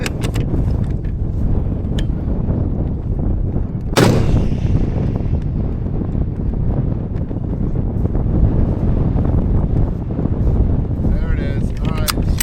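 A single loud, sharp rifle report from a Barrett MRAD firing 245 Berger bullets on a long range shooting stage cracks out mid-clip, surrounded by steady wind buffeting the microphone.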